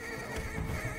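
A police horse neighs in the bridge battle of Rise of the Planet of the Apes, a single loud whinny with clip-clopping hooves amid dense battle noise.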